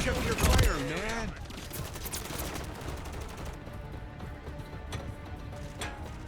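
Gunfire crackles through a Call of Duty MW3 multiplayer match, a loud burst near the start and then a steady stream of shots and game noise underneath, with a voice talking over part of it.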